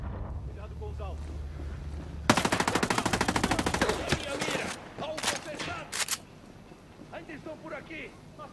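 Long automatic weapon burst in the video game Ghost Recon, rapid loud rounds for about two seconds followed by scattered shorter bursts, with voices shouting over the combat.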